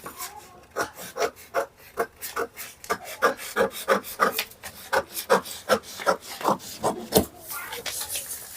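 Scissors cutting through blouse fabric in a steady run of about twenty rhythmic snips and rasping slices, close and fairly loud, with no talking.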